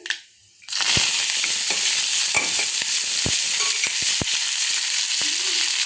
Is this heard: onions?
yes